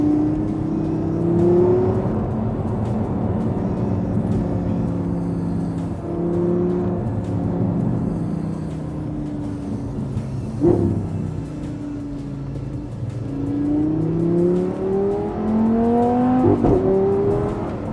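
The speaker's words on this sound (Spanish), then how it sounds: "este motor V10 es una delicia, 525 caballos" An Audi R8 V10 5.2 FSI engine (525 hp) revs repeatedly, its pitch climbing and dropping as it accelerates through gears, loud and close with a continuous rumbling drone.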